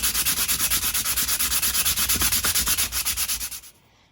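Rapid rhythmic back-and-forth sanding of guitar wood during a build, loud and close, steady strokes for about three and a half seconds before stopping.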